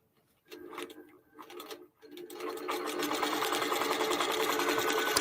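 A QBOT V3 quilting machine stitches a mini-tote, starting with a few short bursts and then settling into a continuous fast, close mechanical whir and needle chatter.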